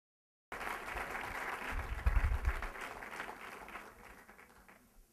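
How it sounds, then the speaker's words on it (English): A crowd claps for Frank Pallone, starting abruptly after a short silence, then fading as the applause thins out; the sustained, fairly quiet clapping has a low rumble in the middle. "So let's give Frank another round of applause."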